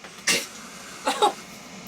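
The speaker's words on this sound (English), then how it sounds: "My dog has the sneezes." A dog sneezes sharply, then sneezes twice more in quick succession, close and fairly loud.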